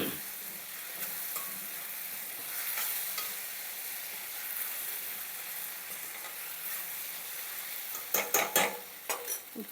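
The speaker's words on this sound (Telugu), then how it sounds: "ఇప్పుడు దీన్ని బాగా కలిపెట్టి" Mango pulihora rice with turmeric is stirred in a sizzling pan, a soft steady frying hiss with gentle scraping, then a few sharper clinks of the spoon against the pan near the end.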